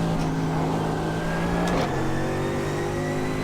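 A Mercedes GT3 race car in the iRacing simulator drones with a steady, loud engine note that dips briefly mid-run as the revs shift, then holds a sustained, buzzy tone throughout with no talking.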